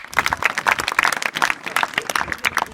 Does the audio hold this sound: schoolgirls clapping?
yes